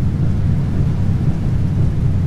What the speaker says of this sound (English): We got rain again.